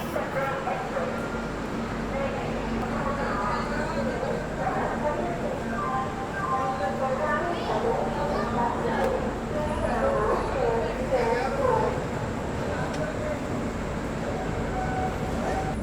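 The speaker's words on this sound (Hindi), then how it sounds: "टाइम की बात करें तो रात के 11:30 बज रहे और ट्रेन अपनी डिपार्ट कर रही है लुधियाना जंक्शन से" A Shri Shakti AC SF Express train pulls out of Ludhiana Junction at night, its steady rumbling roar filling the platform while voices and a dog's barking carry through the background.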